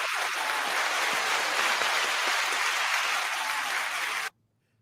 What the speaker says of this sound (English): doctor, we are going to give you a round of applause now